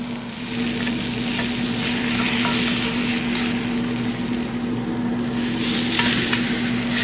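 A sous vide rib eye steak searing on one side in a hot pan, making a loud, continuous sizzle that holds steady throughout with no talk.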